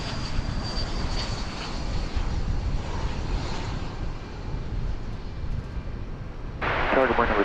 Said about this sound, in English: American Flight 2558 coming in from Fort Lauderdale. An Airbus A321